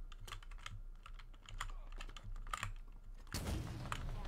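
Keyboard and mouse clicks during a Halo Infinite custom match, rapid irregular taps close by, with a burst of game gunfire near the end; no speech.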